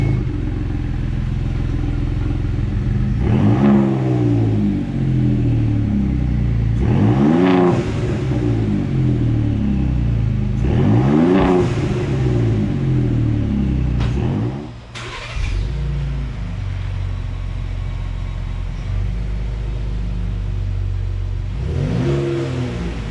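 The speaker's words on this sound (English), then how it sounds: "you can hear exhaust is on, sounding good" A Ford Raptor EcoBoost fitted with a short Remus muffler and triple side-exit tips revs hard several times in close succession: loud, rising throaty sweeps over a steady idle rumble, with no talking.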